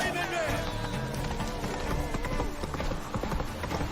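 A horse gallops in The Witcher 3, its rapid rhythmic hoofbeats running steadily close by under a voice talking throughout.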